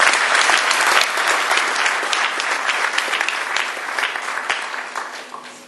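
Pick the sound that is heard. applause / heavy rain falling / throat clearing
applause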